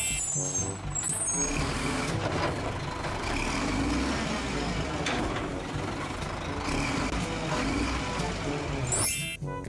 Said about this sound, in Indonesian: selanjutnya ada truk sampah,